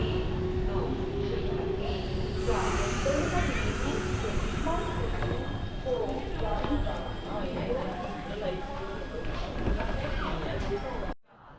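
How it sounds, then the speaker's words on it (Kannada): The Wodeyar Express pulls into a station between Bengaluru and Mysuru with a steady rumble and rhythmic clatter of wheels over rail joints, while a voice talks over the noise. "ನಮ್ಮ ಒಡೆಯಾರ್ ಎಕ್ಸ್ಪ್ರೆಸ್ ಬರ್ತಾ ಇದೆ"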